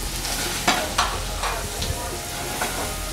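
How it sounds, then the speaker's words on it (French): Chanterelle mushrooms sauté in melted butter and hazelnut oil with a steady close sizzle, punctuated by a few soft scrapes and taps of stirring. "J'ai fait sauter mes girolles"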